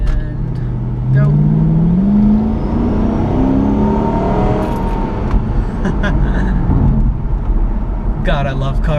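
A 2008 Ford Mustang GT accelerating on winding roads, its engine note rising loud and close from inside the cabin through a gear change, with brief voices near the end.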